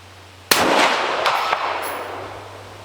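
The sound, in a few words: rifle gunshot fired during shooting practice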